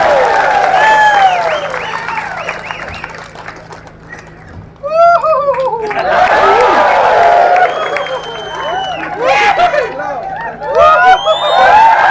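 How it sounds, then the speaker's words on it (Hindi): Loud crowd applause at a BJP campaign event, sustained clapping with cheering and overlapping shouting voices, swelling in a second wave midway and staying strong to the end. "जोरदार तालियां उनकी।"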